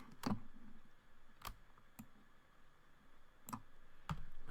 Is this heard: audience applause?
no